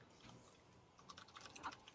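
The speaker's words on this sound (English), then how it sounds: "he's typing something." Quiet, rapid tapping of computer keys comes in a short burst of clicks, faint and slightly distant, in a room where a tabletop game is being played.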